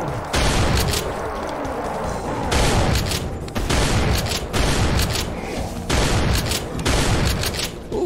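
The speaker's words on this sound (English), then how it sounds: "Something exploded there." Explosions and heavy blasts in the video game Doom SIGIL, loud booming bursts repeating in rapid succession with short dips between them, no talk.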